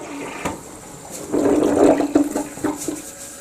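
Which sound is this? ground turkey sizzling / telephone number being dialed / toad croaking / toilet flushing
toilet flushing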